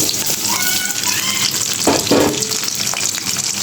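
Onion, green chilli and bay leaf frying in plenty of oil for a Bangladeshi prawn curry, a steady close sizzle with a few louder spits and stirring scrapes midway.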